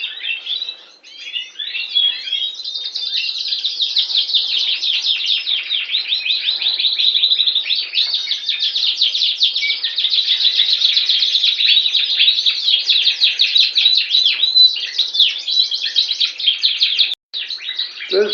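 A Border canary, a 2013 national champion show bird, sings a long unbroken song of rapid, bright trills and rolls, loud and close with no other sounds.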